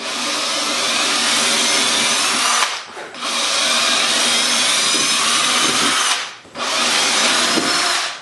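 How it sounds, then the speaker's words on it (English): A power drill pre-drills screw holes in wood for treasure chest hinges, with two long loud whirring runs, each breaking off into a brief pause before the next starts, close by and without speech. "set them down and pre-drill some holes for the screws"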